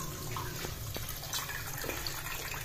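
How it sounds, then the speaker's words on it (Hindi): Water is poured into dirty dishes in a Pakistani village kitchen to soak them, making a soft, steady trickle and splash that stays low and even throughout, close by. "इसमें पानी डाल जाऊँ ताकि"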